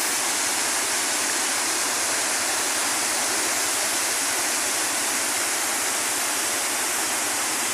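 Water pours over a dam spillway in Brazil, heard from below as a loud, unbroken roaring rush with no break or voices.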